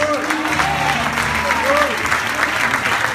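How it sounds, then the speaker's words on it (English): A church congregation applauds at a preacher's urging, steady dense clapping filling the space throughout, with a musical backing underneath. "Oh, clap your hands."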